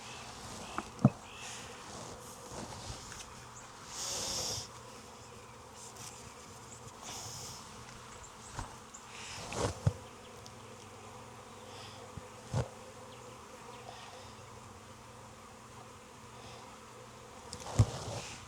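Honey bees drone steadily at an open hive in Jacksonville, Florida, during a virgin queen installation, a continuous close buzz with occasional louder passes and knocks from handling frames.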